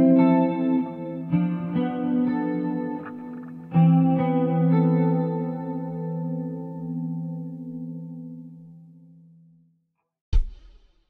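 A clean, chorused electric guitar plays rootless chords through a 2-5-1 progression, a few strummed chords that ring out and decay into silence. A brief sharp knock comes at the end.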